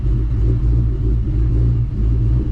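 A 2024 Mustang GT fitted with a Whipple supercharger idles nearby, giving a loud, steady low rumble with a slightly uneven, lumpy pulse and no voices over it.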